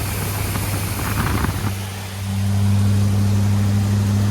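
A big-block engine with a flat tappet cam runs on a test stand, settling into a loud, steady idle with a strong low rumble after a rougher, noisier opening stretch.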